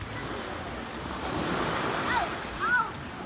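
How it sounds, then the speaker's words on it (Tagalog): Surf washes steadily with wind buffeting the microphone, a continuous rushing roar, while faint whistles or calls rise briefly near the end. "Wow! Dagat!"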